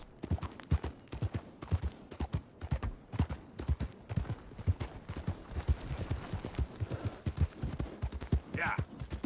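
Hooves clip-clop steadily on a horse in Red Dead Redemption 2, a rhythmic near trotting beat heard with speech woven through it.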